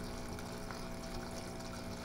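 Water pouring steadily into the drum of a Whirlpool LSP680GR washing machine from a weak tap, a constant low gushing and trickling that stays even and unbroken, close and fairly quiet.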